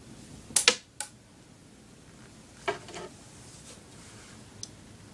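A blade snips a small piece of material while mending an arrow: a few sharp, close clicks and cuts, two in quick succession, then a pair of softer snips and one faint tick later, separated by quiet.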